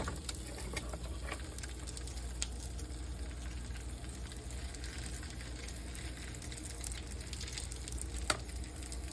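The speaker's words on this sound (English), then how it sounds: "Okay, let's put in our meat." Meat for birria tacos sears in a hot pan, giving a soft, steady sizzle and crackle that stays low and continuous with occasional small pops.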